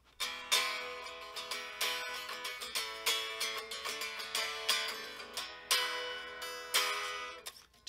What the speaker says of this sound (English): How's it sound unplugged?